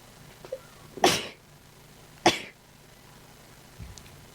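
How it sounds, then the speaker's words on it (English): Two sharp sneezes, about a second apart, fairly close and loud against a quiet background, with a small throat noise near the end. "I need to sneeze."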